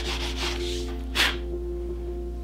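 Medium grit sandpaper rubs along the edges of leather wallet pockets in a few short scratchy strokes, close and fairly quiet, with a sharper single rasp near the middle and a faint steady hum underneath.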